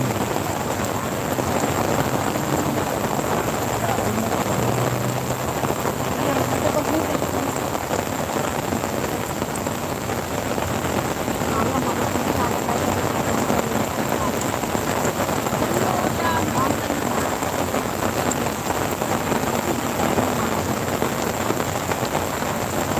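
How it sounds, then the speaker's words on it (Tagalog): Heavy rain pours steadily and loudly on a surface, a dense unbroken hiss throughout with no pauses. "Ang lakas ng ulan dito."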